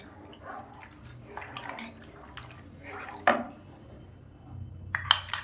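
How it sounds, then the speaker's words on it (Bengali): A spoon stirring milk in a cooking pan: soft scraping and faint liquid swishing, broken by a few sharper metallic clinks, fairly quiet and close. "আবার 1 চামচ দিলাম, দিয়ে নেড়ে দিলাম যাতে না দুধটা ডেলা ডেলা হয়।"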